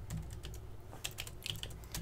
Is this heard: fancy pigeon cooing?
no